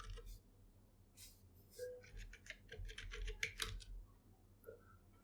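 A computer keyboard clatters as a command is typed, with quick uneven clicks in short bursts and small pauses between keys, close and fairly quiet.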